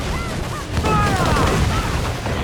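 Ship cannons fire in an Assassin's Creed IV Black Flag naval battle, a dense rumble of booming volleys rolling continuously and growing louder partway through, with shouting voices mixed in.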